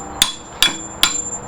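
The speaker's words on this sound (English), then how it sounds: "I should have a little tack hammer over here someplace." A small tack hammer strikes hot metal three times in a steady, evenly spaced rhythm, each blow a crisp, bright metallic clink heard up close with no talking.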